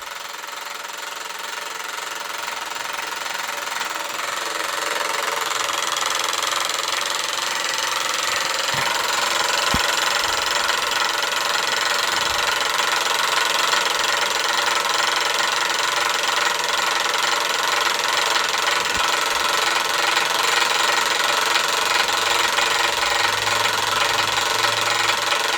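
A small Stirling engine drives a model grain sifter, giving a loud, steady mechanical running noise with a faint rattling texture that holds constant throughout, with no talking.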